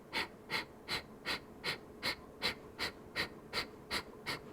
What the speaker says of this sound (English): And now through the nose, little exhales.